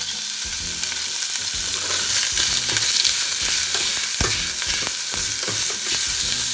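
Pork belly frying in a hot, oiled pan on high heat for a Japanese tonjiru pork miso soup, with steady loud sizzling and crackling plus intermittent stirring and scraping sounds, no voices.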